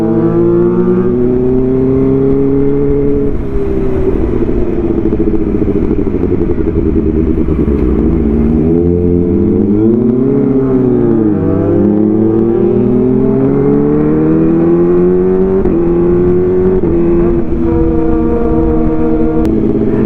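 A Kawasaki ZX25R fitted with a loud Arrow exhaust revs repeatedly, its high-pitched inline-four wail rising and falling in sweeping blips, close and loud throughout with no talk.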